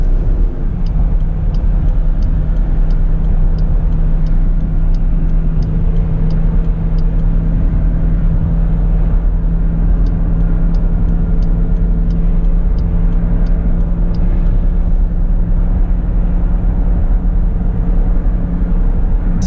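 A Dodge Durango with an 8-speed automatic cruises steadily in fifth gear while towing a travel trailer, giving a constant loud interior road rumble and low engine drone with no talking.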